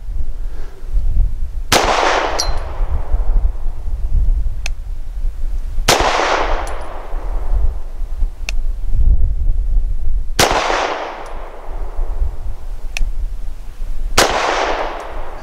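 A Tisas Zigana F pistol fires several sharp, loud shots close by, each crack leaving a decaying ring, with a couple of fainter metallic ticks between the main reports.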